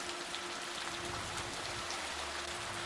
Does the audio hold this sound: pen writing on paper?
no